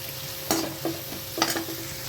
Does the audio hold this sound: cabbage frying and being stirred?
yes